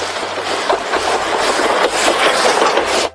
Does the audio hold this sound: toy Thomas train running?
yes